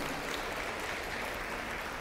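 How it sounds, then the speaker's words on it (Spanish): A church congregation applauds, a dense, even wash of clapping that holds steadily for a couple of seconds. "Démosle un aplauso al Señor"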